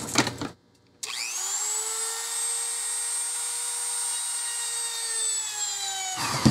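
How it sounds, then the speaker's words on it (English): A power drill spins up with a sharp start, then whines steadily at high pitch for several seconds while drilling a hole in the center of a home decor craft piece, before winding down, close and loud. "So I'm going to drill a hole right in the center."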